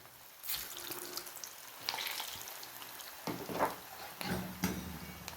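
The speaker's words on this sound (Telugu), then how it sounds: "ఈ ఉండలు వేయించుకోవాలి. ఒక్కటిగా వేసుకొని వేయించుకోవాలి." Bottle gourd kofta balls fry in hot oil, giving a continuous bubbling sizzle with several louder bursts as balls are added one by one, close and clear with no talk.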